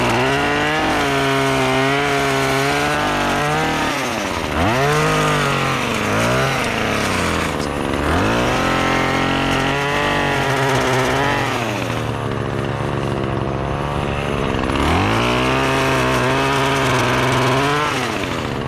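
A pole saw's motor runs loudly and continuously, its pitch bogging down and revving back up repeatedly as it cuts through brush.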